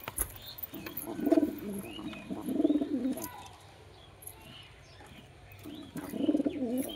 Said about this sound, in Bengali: এই বেরিয়ে নিচ্ছে, বিরাট শয়তান পায়রা।